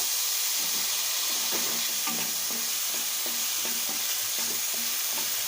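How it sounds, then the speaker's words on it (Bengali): Dry moong dal with cumin seeds rasps and scrapes as it is stirred in a hot pan, a rhythmic series of strokes over a constant steamy hiss. "মুগ ডাল দিয়ে ভালোভাবে একটু নাড়িয়ে নেব"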